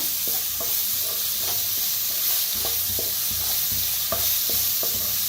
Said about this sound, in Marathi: हिंग टाकूया, आता भाजून घ्यायचा